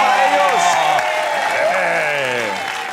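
Studio audience applause and cheering at a televised comedy game show, a loud, dense, steady wash of clapping with voices mixed in through the whole stretch.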